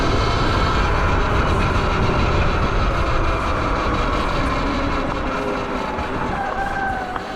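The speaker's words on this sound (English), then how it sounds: "it's kind of engine whining" An ERide Pro SS electric dirt bike on the move: its motor whines with rising and falling tones over loud, constant rumble and wind.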